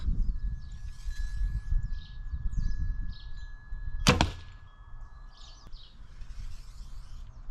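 A single arrow from a Fleetwood Legion 600 spine set strikes the target with one sharp, loud impact midway, set against steady outdoor background noise and faint birdsong.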